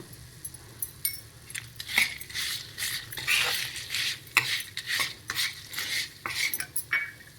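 A spoon scrapes and stirs turmeric powder in a warm pan while cooking ridge gourd ennegayi, giving a busy run of close metallic scrapes and clinks with no talking.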